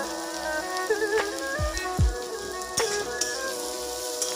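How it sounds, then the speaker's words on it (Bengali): Chopped onion and capsicum sizzle steadily in a pan at home, a continuous close frying hiss with light crackle, a few louder stirring clatters and a faint steady hum running underneath. "ক্যাপসিকামটাও একটু ভাজা ভাজা করে নিয়েছিলাম।"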